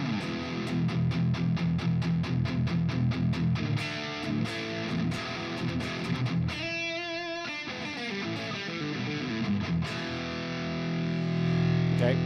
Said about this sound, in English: Also had the Freeman amp in there, which sounds like this.